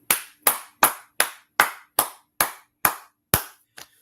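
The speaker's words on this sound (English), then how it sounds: "With that being said, clap it up." About nine sharp, evenly spaced hand claps ring out alone and close at a religious school's stage gathering, each one crisp and quickly fading, with the last one softer and doubled.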